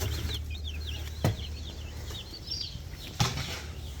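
Baby meat chicks in their box, a steady stream of high, thin peeping close by over a low rumbling background, with two brief thumps from handling.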